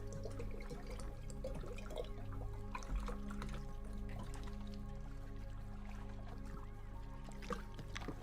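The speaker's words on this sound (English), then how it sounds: "Hang on, I gotta top up my water." Water trickles softly as it is poured to top up a drink, a quiet, steady liquid splashing with small drips that runs for several seconds over a low, constant background hum.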